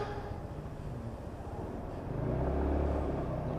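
A lorry's engine rumbles on the road nearby, a low steady drone that grows louder and heavier toward the end.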